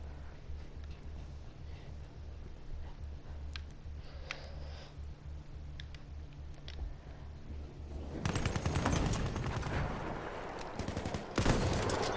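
Battlefield 1 gameplay with a quiet stretch of ticking and small clicks, then a burst of dense distant gunfire and explosions from the battle, rapid and crackling, louder toward the end; the Arisaka rifle is the player's weapon.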